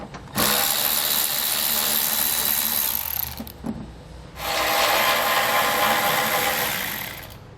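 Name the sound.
removing bolts with a 10mm socket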